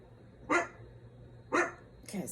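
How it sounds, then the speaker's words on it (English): A dog barks three times at a steady pace, each bark sharp and moderately close, against a quiet room with a faint constant hum. "He found something to bark at."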